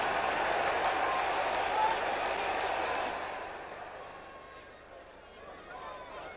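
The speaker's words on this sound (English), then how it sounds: "a big crowd here" Large football crowd at a 1988/89 Tottenham Hotspur versus Middlesbrough league match roars and applauds loudly, then the noise gradually subsides into a lower, restless murmur of the stands.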